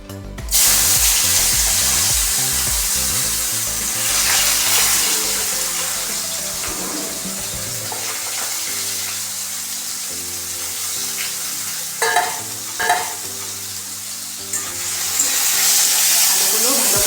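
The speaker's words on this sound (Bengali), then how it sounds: "এখানে আমার তেল গরম হয়ে গেছে। এখন আমি আলুগুলো ভেজে নেব।" Potatoes dropped into hot oil for a flattened-rice pulao, with a loud crackling hiss that begins abruptly, carries on steadily with a few sharper bursts, and has a faint low hum underneath.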